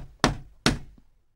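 Two firm knocks land on a shop door about half a second apart, close and sharp, each fading quickly, followed by quiet with no voices.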